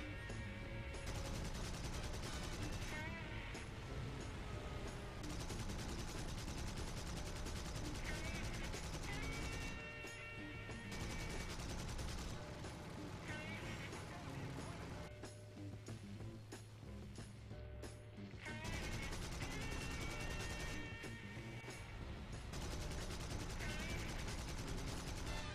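Bf109 E-3 cannon and machine gun fire rattles in repeated long bursts in the War Thunder video game, loud and close over a droning aircraft engine, with short pauses between volleys.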